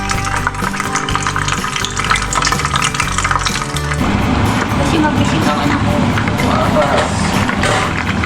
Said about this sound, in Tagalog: So, piprituhin natin yan guys.